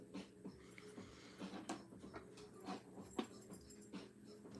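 A puppy whimpering softly indoors, a series of faint, short high whines and yips repeating irregularly over quiet background noise, with no talking.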